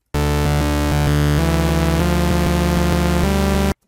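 Serum software synthesizer playing a sequence of sustained notes at identical loudness, each note cutting straight into the next with a bright, buzzy tone and no change in dynamics, loud and alone.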